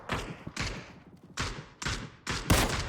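Video game gunfire in a ranked online match: five or six loud, separate gunshot bursts fire at an irregular rhythm, close and sharp, with the last blast the heaviest and no talk over them.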